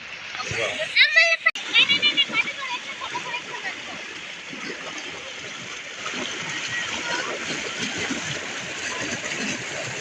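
People splash around in water with a constant rushing wash, children's voices and chatter rising over it near the start.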